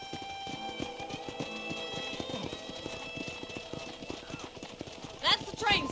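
Horse hooves clip-clop in a steady walking rhythm in the Western video game Red Dead Redemption, close and clear under ongoing talk, with a brief whinny near the end.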